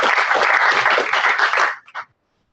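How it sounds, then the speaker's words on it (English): Applause from an audience at a startup pitch event in Perth, a dense steady burst of clapping for nearly two seconds that cuts off abruptly, followed by a brief short trailing clap. "let's give them a round of applause"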